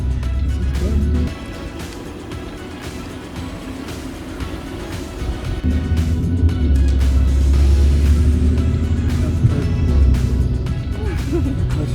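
A learner driver's car rolls along a road with a low, steady engine rumble that swells as she speeds up, heard from inside the cabin without talking.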